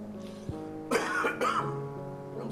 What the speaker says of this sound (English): I didn't want to say it till I coughed for the first time